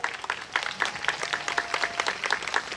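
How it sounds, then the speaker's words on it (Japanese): A crowd at a yosakoi dance contest during a Japanese autumn festival in Hadano claps steadily, a moderately loud, continuous patter of many hands with no voices over it. "拍手。"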